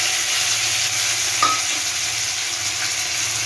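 Tomato hits a hot pan and fries with a loud, steady sizzle that carries on evenly, a faint utensil tap partway through, no talking.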